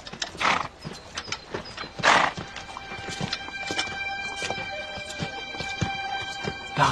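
Horse hooves clop irregularly at a moderate distance alongside creaking, ratcheting tack-like mechanical noises, with no talk.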